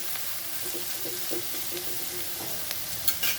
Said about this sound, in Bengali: এখন একটু নেড়ে ছেড়ে ঢাকা দিয়ে বেগুনটাকে সেদ্ধ করব